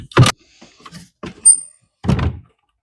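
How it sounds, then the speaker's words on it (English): Opening an antique 200-year-old wooden butler's desk gives three separate close wooden thunks and knocks, with small creaks and a short scrape between them. "Let me first show you why this is no regular chest of drawers, if I can get it open."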